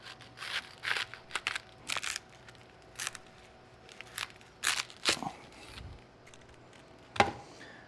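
A knife cuts through a head of cabbage set on its root end during coleslaw prep, giving a series of short, crisp crunches and snaps, close up, with quiet pauses between them.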